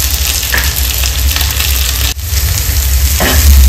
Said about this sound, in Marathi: शिमला मिरची आणि कांदा तुम्ही हाय फ्लेमवर फ्राय करून घ्या